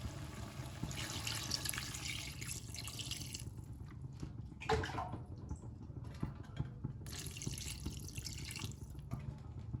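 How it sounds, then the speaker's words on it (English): Water poured from a tap into a cooking pot in two loud rushing bursts with a quieter gap between them and a low background hum, heard close up with no talking. "I am going to add more water."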